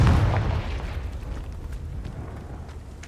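In Hogwarts Legacy, the Confringo spell sets off a heavy booming explosion that hits hard at once and then rumbles and fades over a few seconds.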